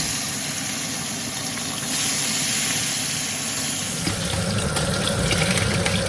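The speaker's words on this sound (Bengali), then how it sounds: "তেলটা গরম হয়ে গেছে মাছগুলো এবার ছেড়ে দিচ্ছি একে একে ভাজার জন্য" Fish sizzle in hot mustard oil in a pan, a steady broad hiss that grows louder and busier partway through, with no talking.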